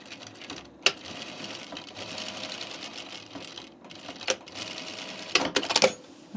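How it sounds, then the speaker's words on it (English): A sewing machine topstitches a seam on a jean jacket, sewing in steady bursts with brief pauses and a few sharp clicks and thumps of handling near the end, close and moderately loud. "We're going to top stitch 3/8 inch away from our fold here, or our seam"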